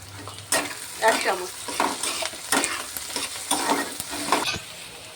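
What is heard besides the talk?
onions frying in a pan with sugar and salt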